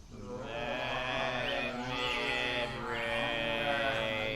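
A voice imitates a zombie moan, a sustained, strained, wavering groan held continuously for several seconds at moderate level, with a faint background hiss.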